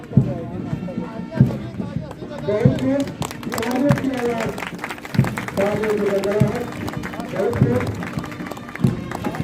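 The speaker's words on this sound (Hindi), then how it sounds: "तालियां सुस्त हो गई आपकी।" A crowd claps at a police battalion passing-out parade, with scattered, thinning applause under an amplified announcer's voice and regular dull thumps in the background.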